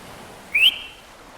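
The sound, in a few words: short sharp whistle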